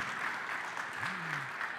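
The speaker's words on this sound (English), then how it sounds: "Give her a big round of applause." Applause from a church congregation welcoming a new member who is joining and preparing for baptism, a steady broadband patter of clapping with a brief voice-like tone over it.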